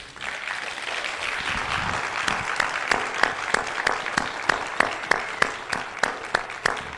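A crowd welcoming a Rastafari speaker breaks into applause, building from a soft start into dense clapping. Then it thins into a few loud, evenly spaced single claps that ring out near the end.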